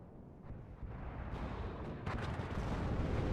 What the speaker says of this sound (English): Artillery continues landing around here.